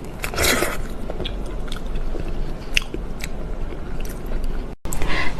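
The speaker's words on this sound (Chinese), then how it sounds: "香水柠檬，咱们尝一下，" Close, crisp bites and crunching chews into a perfume lemon, a loud burst of biting near the start followed by steady wet chewing with smaller crackles, then another crunchy bite at the end.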